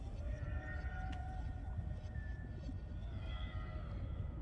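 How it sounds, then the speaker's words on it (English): Whale-like creatures call in the underwater video game Subnautica Below Zero, long wavering tonal moans and a few higher glides drifting over a deep rumbling ocean ambience, fairly faint. "They sound like whales."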